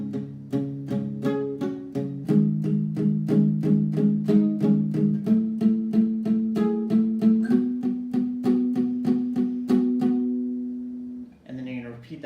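Guitar strums a song part at a slowed tempo, a steady run of even down strums with chord changes partway through, close and prominent, ending with a short noise after the last ringing chord.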